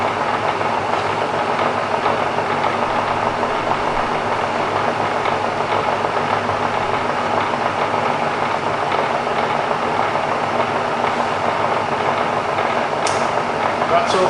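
A Bridgeport Vari-speed milling machine running at about 800 RPM gives off a steady, continuous mechanical hum and whir at close range, unchanging throughout, with a brief click near the end.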